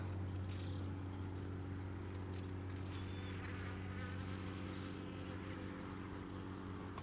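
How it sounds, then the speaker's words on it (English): Bees buzz around cactus flowers outdoors, a steady low drone with a wing hum that rises and falls as insects move near the microphone. "Although the bees are scared off."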